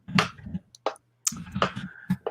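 A very loud computer keyboard clacks in quick, irregular bursts of sharp key hits, some clustered and some isolated, close up with brief pauses in between.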